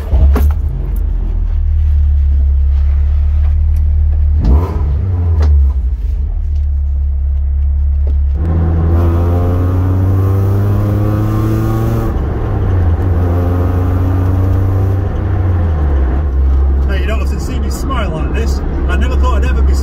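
Road-legal Ford Fiesta track car driving, its engine a steady loud low drone throughout, rising in pitch under acceleration around the middle, with speech over it.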